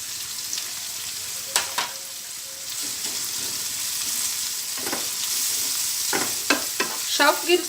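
Potato chop filling with garam masala, nutmeg-mace powder and black salt is stirred in a frying pan, a continuous close sizzle with occasional spoon scrapes and clinks that bunch together toward the end; no one speaks.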